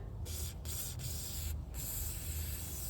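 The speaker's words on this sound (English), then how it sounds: "WD-40, just give it a spray," A can of WD-40 lubricant hisses in close, short bursts as it sprays onto a car's manual clutch cable, a few quick pulses with tiny gaps between them.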